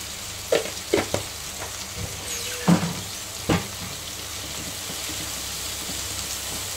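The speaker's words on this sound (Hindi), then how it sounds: "सॉफ्ट होने तक प्याज को फ्राई कर लेंगे।" Onions with salt frying on a tawa over medium flame for mutton tawa gosht, a soft steady sizzle with a few louder clinks of stirring near the start and middle, no talk.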